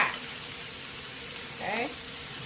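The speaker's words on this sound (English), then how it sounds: "Get that steak down in there, and you want contact." Steak searing in a hot cast iron pan over medium-high to high heat, giving a steady loud sizzle with a brief louder spit partway through.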